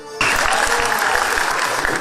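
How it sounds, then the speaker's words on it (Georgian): Sustained applause from a theatre audience greeting a children's folk ensemble arriving on stage in Batumi, starting abruptly after a brief moment and holding steady and loud for the remaining two seconds. "მათ გამოჩენაც კი დარბაზიდან განსაკუთრებული ოვაციები მოჰყვა."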